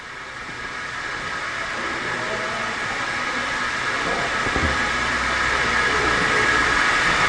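A spin rinse dryer rotor spins wafer cassettes at speed, producing a steady, loud mechanical whir and hum that holds throughout with no talking.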